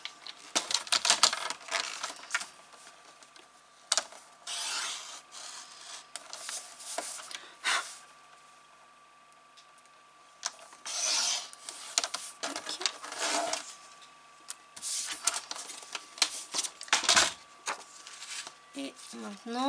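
Card stock for a Valentine's star scrapbook album is cut with a paper trimmer or blade, giving soft scraping, sliding strokes in uneven bursts at close range, with quiet talking between them.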